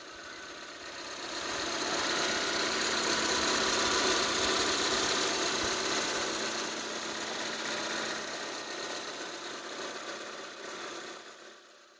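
A vehicle engine idles gently at around 800 to 900 rpm, a steady, close mechanical hum that swells slightly and then tapers off toward the end.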